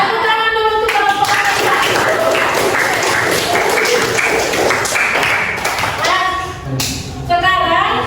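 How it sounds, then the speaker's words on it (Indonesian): A classroom of students applauds a student group after its presentation, with steady clapping for several seconds, some voices mixed in, and a brief dip before the clapping swells again near the end. "Tepuk tangan dulu untuk kelompok"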